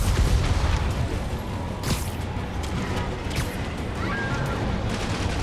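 Gunfire erupting in Marvel's Spider-Man, Silver Lining DLC, during an attack on the financial district: a continuous loud barrage of shots and booms, with a sharp crack near the middle and clattering debris throughout.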